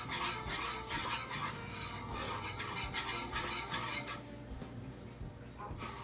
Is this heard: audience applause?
no